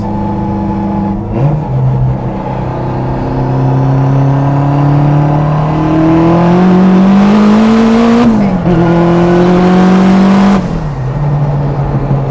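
An 800hp Subaru STI engine runs loud and close, its pitch climbing in long revs, dropping briefly, then climbing again before settling back to idle.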